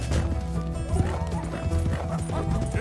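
Horses gallop with rapid clip-clop hoofbeats and neigh and whinny in the Red Dead Redemption 2 video game, loud and busy throughout with a faint voice occasionally underneath.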